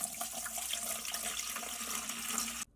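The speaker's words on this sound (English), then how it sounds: "we pour the water in" Water is poured into the tank of a cool mist ultrasonic humidifier, a close, steady splashing stream that runs for under three seconds and cuts off sharply, with no talking.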